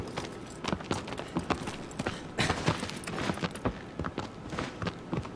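Rapid, irregular hoofbeats patter steadily at moderate volume, a galloping horse in Shadow of the Colossus with no voices over it.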